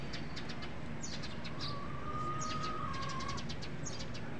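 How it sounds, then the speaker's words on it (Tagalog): A lot of birds chirp outdoors, with quick overlapping tweets and a thin whistled call over a constant hiss of wind or distant traffic. "the birds, a lot of birds."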